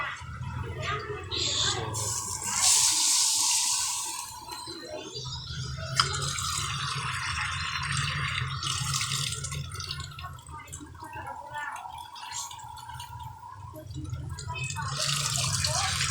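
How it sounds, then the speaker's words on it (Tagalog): Water runs steadily from a tap into a pot, a continuous splashing hiss with a speaking voice over it and a brief clink partway through. "kuha tayo ng tubig. Tulagyan din ng tubig yung ating miswa"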